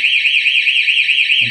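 An MR1 alarm system siren screams continuously after being triggered, a loud, piercing electronic wail with a rapid warbling pulse, close to the microphone and steady throughout.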